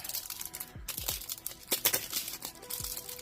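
Foil booster packs for Magic the Gathering Avatar Jumpstart crinkle and tear open in a close run of crisp crumpling, ripping and rustling bursts, with no talking.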